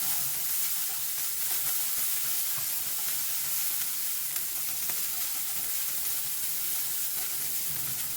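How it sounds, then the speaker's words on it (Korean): Bracken (gosari) stir-fries in hot oil with soy sauce, making a loud, continuous sizzle and hiss with faint stirring scrapes underneath while a bibimbap dish is prepared. "고사리 볶아줍니다"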